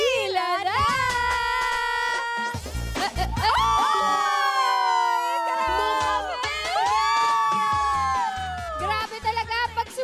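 A studio audience at a Filipino carnival-style game show shouts and cheers in loud, sustained bursts of overlapping voices that swell and hold, with a brief dip partway through before the cheering resumes.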